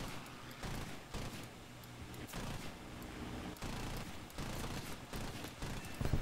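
Sustained bursts of aircraft cannon fire from a combat flight video game, dense rapid rounds pounding continuously with short gaps, loud and close throughout.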